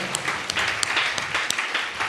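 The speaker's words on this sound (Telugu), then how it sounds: "ఒకసారి చప్పట్లు కొట్టి దేవుని మహిమ పరుస్తాం" A church congregation claps their hands together in a brief burst of dense, lively applause lasting about two seconds, with no speech over it.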